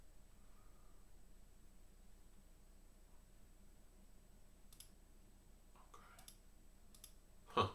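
Computer mouse clicks sound as a few faint, sharp ticks spaced irregularly over a quiet background, ending with one louder click up close; no one speaks.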